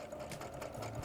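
An SG-9000 sewing machine stitches along a folded waistband in a steady, continuous mechanical whir with a fast needle rhythm, close and fairly loud throughout the short burst.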